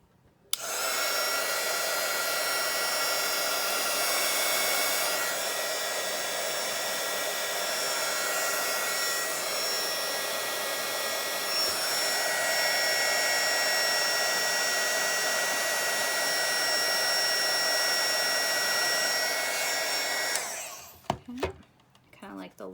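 A heat tool blows hot air over a stack of sculpting foam flowers for papercraft, a loud, even, continuous whoosh lasting about twenty seconds before it switches off and brief handling noises follow.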